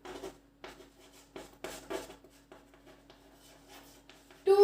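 A pen scratches across paper as a teacher writes notes, producing bursts of quick, soft scribbling strokes separated by short pauses, with a louder rustle at the very end.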